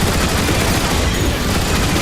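Rapid, relentless turret gunfire from gun emplacements blasting at Decepticon Seekers in Transformers: War for Cybertron, loud and close with no gaps across the burst.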